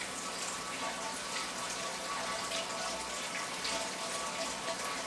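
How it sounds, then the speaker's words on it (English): Water runs steadily in the background from a self-watering tower garden, a continuous hiss and splash like a filling sink, fairly faint and unbroken, with no talk over it. "If you hear water going on in the background, it is because my tower garden is watering itself"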